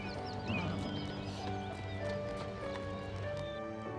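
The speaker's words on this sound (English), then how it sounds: "He'd have a horse and buggy, and John would go with him" A horse pulling a country doctor's buggy clip-clops along at a steady trotting rhythm, fairly close, with a neigh and faint background music around it.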